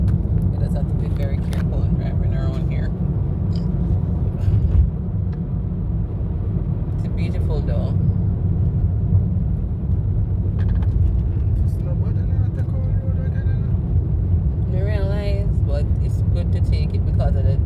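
A car drives along a rough, poorly surfaced road in Jamaica, with a steady low engine and road rumble running throughout, plus occasional bumps and knocks, while people talk inside the vehicle.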